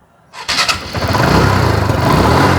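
A TVS Stryker motorcycle engine cranks and catches, then settles into a loud, steady idle close to the listener.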